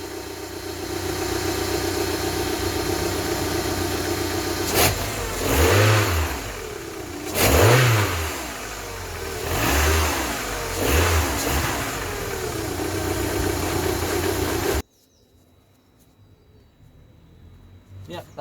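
After a cold start with fresh coil packs and HT leads fitted, a car engine idles roughly and blips through four short revs in the middle, then cuts to near silence.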